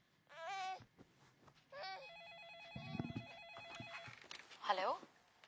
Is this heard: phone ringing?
yes